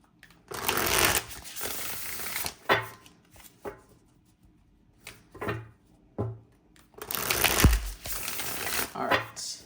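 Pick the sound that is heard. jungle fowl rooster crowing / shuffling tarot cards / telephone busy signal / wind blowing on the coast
shuffling tarot cards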